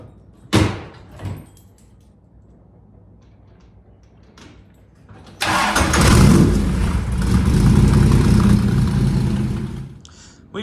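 A Cobra sports car starts and rolls out of a garage after a door clunk and a couple of sharp knocks, its engine rumbling loudly and steadily for several seconds before cutting off.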